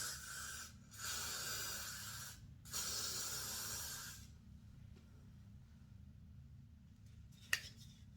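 Close hissing bursts of hair spray on a frontal wig: two sustained sprays with a brief gap between them, then quiet with a faint click near the end.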